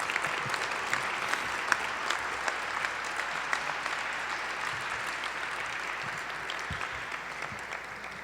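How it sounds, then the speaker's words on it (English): Audience applause at an awards dinner in a banquet hall, a dense, even wash of many hands clapping at moderate volume, sustained for several seconds with no speech over it. "You can applaud."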